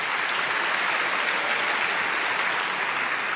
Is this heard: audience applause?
yes